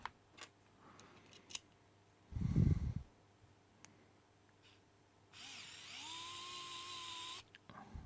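ES120/ES121 electric motion control screwdriver motor whirring for about two seconds, a thin, faint high whine with a slight pitch change, following scattered light clicks and a short dull thump in an otherwise quiet room.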